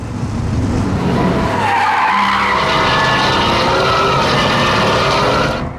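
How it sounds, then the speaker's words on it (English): A Ruf Porsche 911 slides sideways on the Nürburgring Nordschleife, its tires squealing loudly and steadily over a roaring engine, close and sustained throughout. "You see the car tilts, the car goes sideways, the car jumps"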